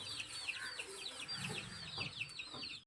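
Free-range desi hen of the Khadaknath poultry breed, having just hatched six chicks from eggs laid in a tray, clucks in a steady run of short calls close by, with faint farmyard background and no talk.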